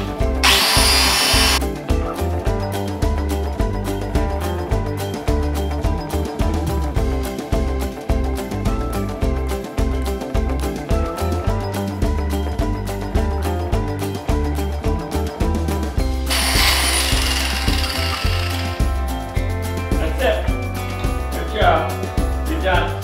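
A power tool grinds and trims animal hooves, a steady whirring buzz with repeated rhythmic pulses running throughout, close and loud, with occasional talk underneath.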